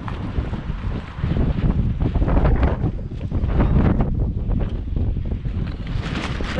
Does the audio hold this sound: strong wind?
yes